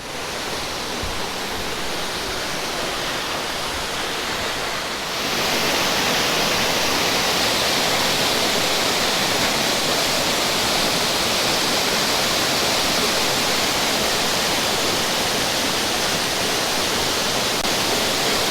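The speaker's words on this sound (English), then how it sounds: "this is the first waterfall at Lilydale Falls" Constant roar of Lilydale Falls in Tasmania, a dense rushing hiss that grows louder partway through as if moving closer, steady and unbroken.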